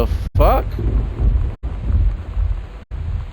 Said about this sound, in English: It didn't help that the thunder happened right after that too.